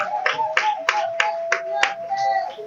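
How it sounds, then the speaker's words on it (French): An audience at a Collège Belgo-Congolais school ceremony claps for a prize-winning ENAFEP student: rhythmic, fairly close hand claps in a steady beat over a sustained musical tone, with no talk. "On applaudit."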